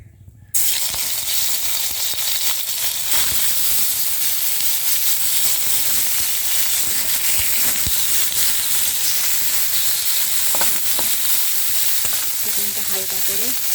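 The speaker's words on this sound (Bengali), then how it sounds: "হালকা করে ভেজে নেব, সামান্য করে ভেজে নেব।" Chicken pieces for a chicken soup fry lightly in a spoonful of hot oil. After a brief quiet start, a loud, continuous close sizzle and hiss carries on, with a few faint utensil clinks near the end.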